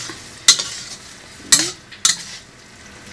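Pasta being stirred into a creamy carbonara sauce in a pan, with three distinct scraping, clinking strokes over a soft sizzle, close and without talking.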